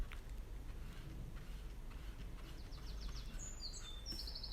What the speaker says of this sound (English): there's a nice bird outside